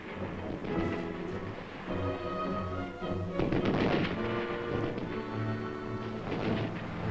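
Machine gun and mortar fire in the Korean War rattle and boom steadily for several seconds, dense, continuous bursts with heavier thuds around the middle, no voices.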